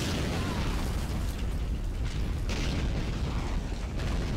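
A Nebelwerfer rocket launcher in the Men of War war game fires a sustained rumbling roar of bursts and blasts, fairly quiet and distant, with no talk over it.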